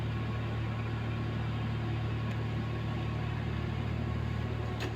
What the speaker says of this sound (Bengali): এই যে ওভেনে শেকিং করতেছে দেখছেন?